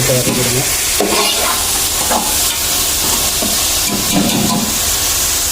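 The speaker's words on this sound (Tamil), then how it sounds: "தக்காளி ஒரு அளவுக்கு நல்லா வதங்குற வரைக்கும்" Ripe tomatoes sauté in a pan for chicken curry, a loud continuous close sizzle and hiss with spatula scrapes and clatters throughout, and no talk.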